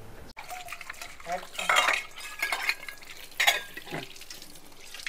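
Dishes, pots and utensils being scrubbed at a sink, with irregular metallic clinks and scrapes of steel vessels and some running water, fairly close and moderately loud in short bursts.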